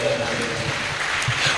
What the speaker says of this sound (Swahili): Shangilia Bwana kwa makofi.